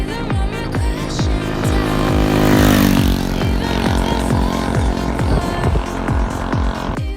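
A 125cc motorcycle with a swapped sprocket pulls hard on a test run along a closed road, its loud, buzzy engine revving up through several quick gear changes, each shift marked by a sharp drop and renewed climb in pitch.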